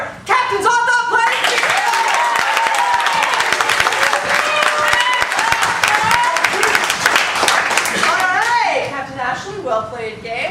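At a team game, an audience claps for the team captains, a long, dense round of applause with scattered voices and a child's chatter, tapering off near the end as talk resumes.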